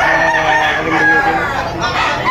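Rooster crowing at a chicken auction, a single loud, close drawn-out crow with harmonic rises, other fowl sounds faint behind.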